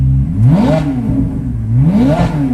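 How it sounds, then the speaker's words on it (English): A 2006 Ferrari F430 engine revved while parked, climbing and dropping in pitch twice in smooth, even sweeps, loud and close with no voices. "I'm also going to rev the engine"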